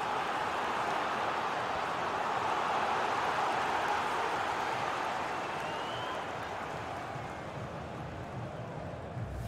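A stadium crowd roars in the football game FIFA 22 as a team pushes for an equaliser, a steady wash of loud, sustained cheering and noise that fades slightly toward the end.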